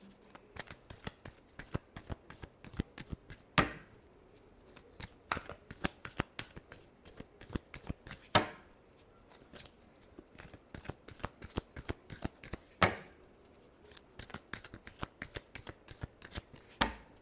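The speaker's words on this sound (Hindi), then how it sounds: "Last shuffle." Tarot cards being shuffled in repeated crisp riffling bursts, close and fairly quiet, with a few louder bridge-like cascades spaced through the stretch and no talking.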